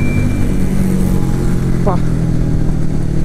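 Royal Enfield Meteor 350 engine running steadily with a low, loud thump through a gear change, a short voice cutting in briefly over the rumble.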